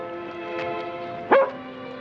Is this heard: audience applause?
no